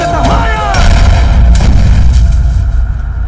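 A tank cannon fires in a war movie scene, a loud, booming blast followed by a rumbling roar that slowly fades, with a voice briefly audible over the battle noise.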